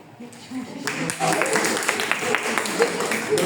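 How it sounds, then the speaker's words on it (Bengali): Audience at a debate competition in Tangail breaks into clapping about a second in, a dense, steady patter of many hands that continues to the end, with a voice faintly mixed in. "জোরে দেন তালি।"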